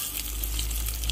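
Grated coconut sizzles in hot tempering oil, a steady close crackle and hiss with no pauses.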